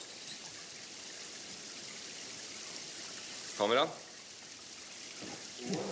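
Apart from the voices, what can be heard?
artificial rain effect on a film set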